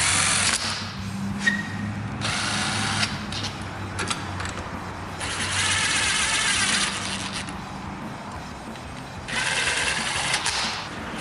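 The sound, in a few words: impact driver running in screws on a KLX110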